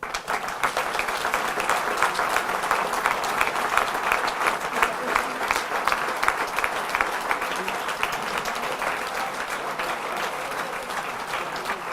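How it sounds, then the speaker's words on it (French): Sustained audience applause for a club president at a town New Year's greetings ceremony, with many hands clapping in a thick, steady patter that lasts the whole stretch, fairly close and full, with faint voices mixed in. "Et il mérite bien vos applaudissements"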